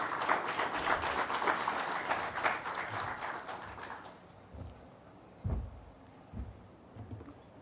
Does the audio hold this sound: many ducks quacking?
no